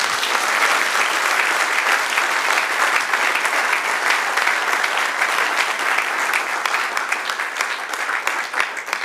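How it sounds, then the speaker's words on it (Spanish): A church congregation applauds together in a loud, sustained roar of clapping that holds evenly for several seconds with faint crowd voices mixed in. "Denle un aplauso al Señor"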